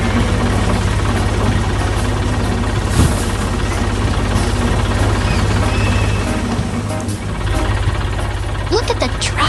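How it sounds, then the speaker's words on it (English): A tractor engine runs steadily at close range, a loud, continuous low rumble with a constant mechanical drone and no break across the whole stretch. "Look at the tractor go."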